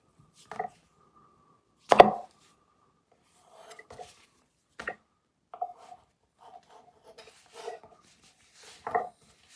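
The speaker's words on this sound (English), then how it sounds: "Trim them out of the pastry." Knife cutting pastry lids and cases for butcher's pork pies, heard as a few separate short taps and scrapes spread out with gaps between them, fairly close and quiet, no voices.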